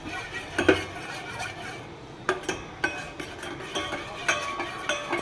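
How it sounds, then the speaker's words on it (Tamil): A spoon stirs rice payasam in a metal pot over a low flame, producing soft scraping and intermittent clinks against the pot's sides in an irregular rhythm, close by and fairly quiet with no talking. "ஸ்டவ்வை சிம்மில் வச்சே கிண்டிகிட்டு இருக்கணும்."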